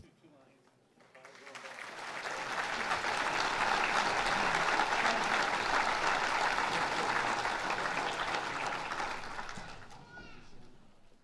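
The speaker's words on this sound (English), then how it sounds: "Let's give this big group another exciting round of applause." A big audience at a police merit awards ceremony breaks into applause that swells quickly, holds strong for several seconds, then fades out near the end.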